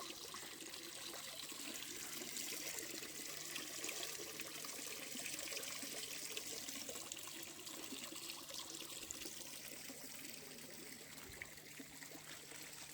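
An aquarium filter trickles and splashes water into a home fish tank, a soft, steady, continuous babble with a faint low hum beneath, fairly quiet and with no voices.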